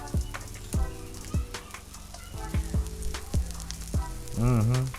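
Salmon burger patties frying in melted butter in a pan give off a soft crackling sizzle under repeated sharp clinks of a utensil on the pan, followed by a brief scraping sound near the end.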